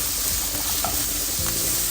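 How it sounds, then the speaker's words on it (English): Chicken stir fry in a pan sizzles loudly and steadily right after seasoning powder goes in, with faint scraping of the stirring under a dense, continuous frying hiss and no talking. "I'm going to go in with some seasoning powder. Give this a good stir."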